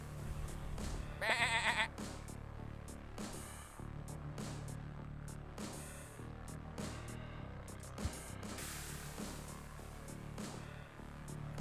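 A sheep bleats once in the Super Auto Pets video game, a short sharp cry near the start, followed by quieter game sounds and clicks.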